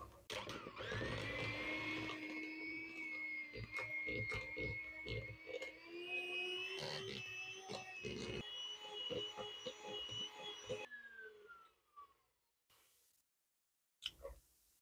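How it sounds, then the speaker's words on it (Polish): Electric hand mixer whipping 200 g of soft butter in a bowl until white and fluffy, a steady motor whine with clicking and scraping for about eleven seconds, then it stops and a couple of brief knocks follow. "I ubijamy do białej, puszystej masy."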